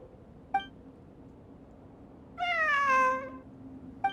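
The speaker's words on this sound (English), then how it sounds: "I'm not hearing things. It really is a cat." Cat meowing in the video game Genshin Impact: a single drawn-out, clear meow stands out against a quiet ambient background, with short soft clicks before and after it.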